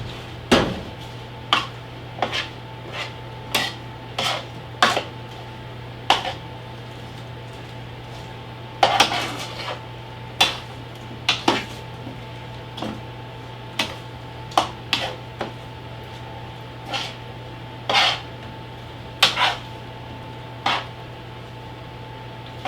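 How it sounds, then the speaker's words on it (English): Roasted vegetables with onions being stirred in an oven dish, heard as a series of sharp, separate clicks and scrapes of a utensil against the dish at irregular intervals over a low steady hum. "So here's our vegetables, and we're going to stir them around a little bit."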